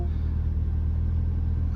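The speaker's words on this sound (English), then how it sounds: "And the car fires into life." A Mini Cooper S engine idles steadily just after starting, giving a continuous low rumble close by with no talk over it.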